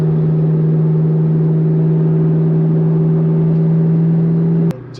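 Terminator Cobra Mustang cruising on a road in Tennessee, a loud steady engine drone with a constant low hum held throughout, cutting off abruptly near the end.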